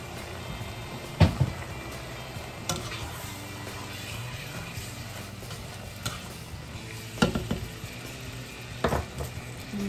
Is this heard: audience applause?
no